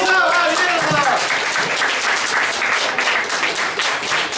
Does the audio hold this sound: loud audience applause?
yes